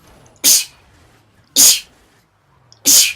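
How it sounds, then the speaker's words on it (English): Three loud sneezes from one person, evenly spaced about a second apart, each a sharp explosive burst standing alone over faint background. "That was me sneezing"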